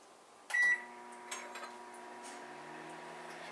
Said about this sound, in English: you're going to put it in the microwave.